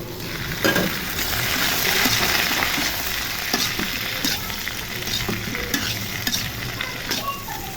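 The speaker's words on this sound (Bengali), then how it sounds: "পটল দিয়ে পটলগুলা ভেজে নিব আলুর সাথে" Potatoes and pointed gourd frying together in a pan of oil, a loud continuous sizzle with repeated scraping and stirring strokes of a spatula close by, no talking.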